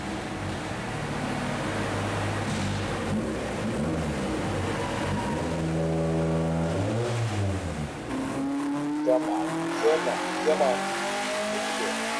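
A Citroen Saxo VTS engine, strapped down on a dyno at Northampton Motorsport, revs hard through several climbing, roaring sweeps before dropping back, loud and close, with a short shout from a man over it.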